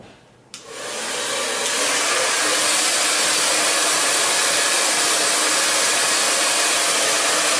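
A hair dryer switches on with a short click and then blows loudly and steadily, aimed back over the hair to set it in place, with a continuous close whooshing airflow and no talking.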